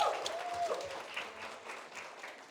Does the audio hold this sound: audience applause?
yes